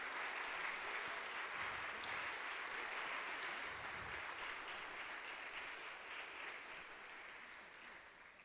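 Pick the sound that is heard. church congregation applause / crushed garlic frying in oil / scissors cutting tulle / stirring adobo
church congregation applause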